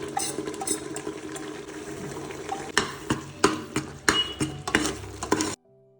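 Salt and coriander powder are stirred into a cooking pot over a sizzling base, with a spoon scraping and knocking against the pot in quickening strokes before it goes quiet.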